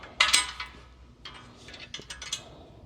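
Metal bolts are lined up and run through the frame of a Hoist V4 Elite home gym, producing a few close, sharp metallic clicks and clinks followed by lighter rattling and scraping taps.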